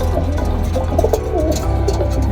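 Pigeons, including a newly hatched squab, cooing in a loft, soft repeated throaty coos overlapping close by against a steady low background hum.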